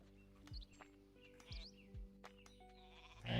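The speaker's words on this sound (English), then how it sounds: "I've got a sheep." Sheep bleat faintly in a strategy video game, with a few short cries set among light chirps and quiet game sounds.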